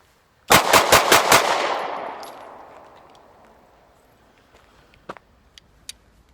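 A Taurus PT111 G2 pistol fires a fast string of five loud, close shots that ring out and decay, followed by a few faint clicks and handling sounds.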